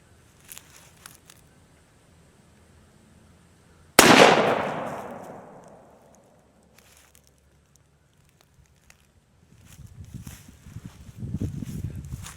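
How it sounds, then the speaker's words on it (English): A single sharp, loud gunshot from an Uberti 1849 Colt Wells Fargo .31 revolver fired at a shaving-cream target, ringing out and decaying over about two seconds, followed by quiet and later some low rumbling handling noise. "Let's take it out with the 1849 Wells Fargo"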